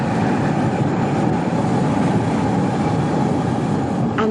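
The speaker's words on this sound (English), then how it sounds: "The engine is a leaping jet of gas," A continuous, powerful roar comes from the gas-jet burner of a 75-foot-high hot air balloon, heard close up and unbroken from start to finish.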